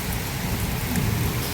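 Rain falls steadily on a garden plot during tomato planting, a dense, even patter close by with no voices over it.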